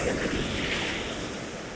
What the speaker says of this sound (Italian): Aspettiamo sempre l'onda, eccola